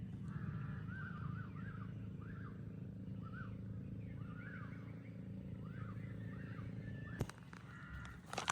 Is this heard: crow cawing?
yes